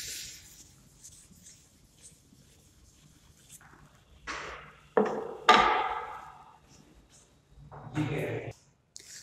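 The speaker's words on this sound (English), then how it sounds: "Let me rub the board." Chalk is wiped off a classroom blackboard in a few rough, scraping bursts of rubbing separated by quiet pauses, close and moderately loud.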